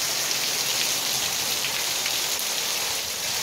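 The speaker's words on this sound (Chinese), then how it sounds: "今天下大雨啊，大雨大雨" Heavy rain pours down in Kinmen, a dense, loud and continuous hiss of drops striking surfaces with no voices over it.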